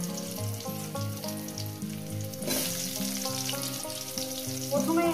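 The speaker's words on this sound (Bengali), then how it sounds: "আলুগুলো দেওয়ার পর মিনিমাম 5-6 মিনিট আমি এটাকে ভেজে নেব" Potatoes frying in a pan with salt, a steady close sizzle that runs without pause under louder background music.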